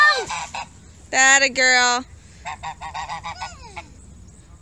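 A goose at a fall outing honks loudly twice in quick succession, then gives a series of softer, shorter honks, with a person speaking briefly at the start.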